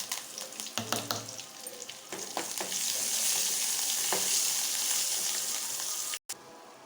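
Mustard seeds, cumin, garlic and curry leaves fry in hot oil for a drumstick-leaf chutney tempering, the sizzle swelling into a steady loud crackle after a few clinks and pops, with no talk.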